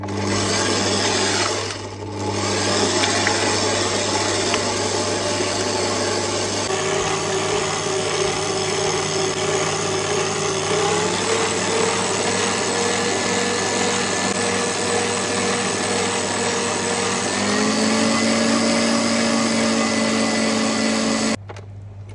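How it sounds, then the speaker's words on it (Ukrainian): Electric mixer whipping heavy cream with mascarpone and sugar, a loud continuous motor whir whose pitch steps upward as the speed is raised, running alone before cutting off at the end. "Я спочатку його на повільних оборотах почала взбивати, а далі поступово прискорювала."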